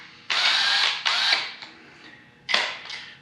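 Power tool bursts running crankshaft bolts down during a twin-turbo engine build, three loud whirring runs of about half a second each with quieter mechanical clicks between, close up with no talk.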